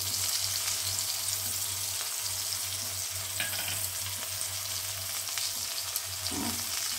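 Turmeric and chili powder sizzle in hot oil in a pan, a steady close frying hiss that runs on without a break.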